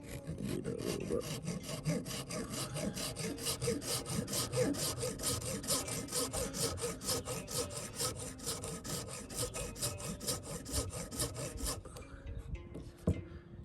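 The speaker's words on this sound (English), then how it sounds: "We're going to just chop it with the saw, and what we want to do is we want to use a little bit of water." A hand saw cuts through brittle tree resin in fast, steady rasping strokes, close and continuous for several seconds before it stops.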